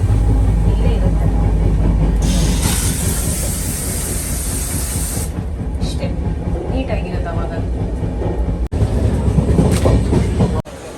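A running train rumbles and rattles steadily from close by, with a long burst of hissing in the middle and a few sharp knocks later on, while people talk faintly in the background.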